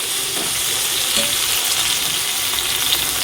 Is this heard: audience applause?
no